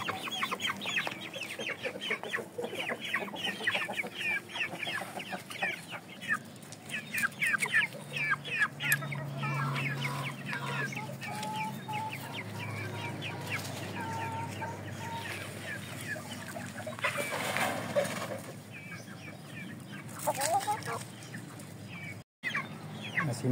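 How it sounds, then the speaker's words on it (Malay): Hens of Vietnamese Saigon and Shamo gamefowl breeds cluck repeatedly in a farm coop, a busy, continuous chorus of close clucking and bird calls with occasional louder squawks. "Dengar bunyi tu kan? Bunyi tu kalau sebelum ni lah kan, ayam sebelum ni bunyi tu tanda-tanda dia nak telur."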